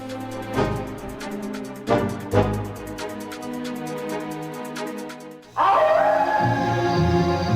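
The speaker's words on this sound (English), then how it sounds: "That sounded like a wolf! And it's getting closer!" A cartoon-style wolf howl from a Count Chocula cereal commercial rises loud and sustained after a few rhythmic musical hits, filling the end of the clip.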